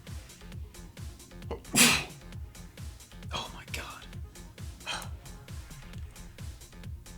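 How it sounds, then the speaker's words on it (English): A single sharp sneeze bursts out close by during a Summoners War gaming session, sitting over quiet background game music, with a voice speaking softly before and after. "I gotta sneeze"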